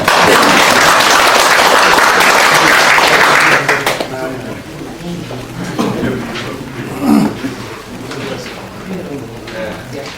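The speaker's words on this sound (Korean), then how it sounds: "정옥경 사무국장 큰 박수로 환영해 주시기 바랍니다" Loud, dense applause from an audience welcoming a speaker at a civic movement's founding ceremony fills the first four seconds, then fades into quieter room noise with some voices.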